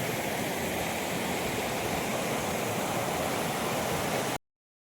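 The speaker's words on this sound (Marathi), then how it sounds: "काय पाणी वाहते बघा" Steady, rushing, foamy stream water pours continuously at close range, a dense, even hiss with no pauses until it cuts off abruptly near the end.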